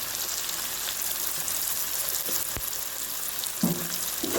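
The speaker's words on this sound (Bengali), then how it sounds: "তো এবার সব মশলা ভালো করে কষাবো আমি।" Spices such as turmeric, chili powder and a pinch of asafoetida fry in hot oil in a pan, giving a steady, close crackling sizzle throughout, with a sharp tap and a brief scrape of stirring near the end.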